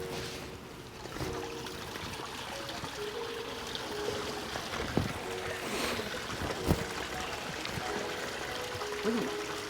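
Water bubbles and trickles into an ecosystem pond, a soft continuous churning pour with occasional splashy bursts, and faint voices murmur in the background.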